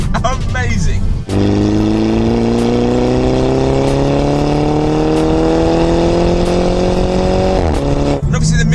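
A Mini Cooper S convertible fitted with a Remus catback exhaust revs hard, its loud, deep engine tone climbing steadily for several seconds before dropping back, with a brief dip early on.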